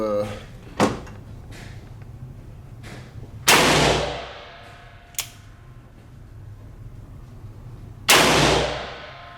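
Three sharp, loud gunshots from a Taylor's & Co 1873 Cattleman single-action revolver with a 4 3/4-inch barrel in 9mm, fired outdoors at spaced intervals with ringing decay, plus a few fainter clicks and knocks between shots.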